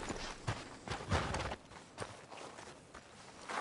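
Horse hooves clip-clop in a video game, an uneven run of soft, fairly close thuds at a walking pace, with nothing else competing.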